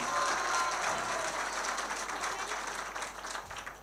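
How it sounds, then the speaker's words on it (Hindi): Sustained applause from the audience at an All India Mushaira poetry gathering, a dense steady wash of many hands clapping that thins slightly toward the end, heard without any voices over it. "भाई शेर का जोरदार तालियों से पूरा मजमा पहले इस्तेकबाल करें।"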